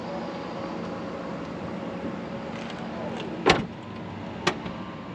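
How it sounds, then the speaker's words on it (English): On a 2024 Volvo XC40, a motorized power tailgate hums as it lowers and then shuts with a thud, followed a second later by a short click as the doors lock, over steady outdoor background noise. "We can close the trunk and lock the doors, or just close the trunk."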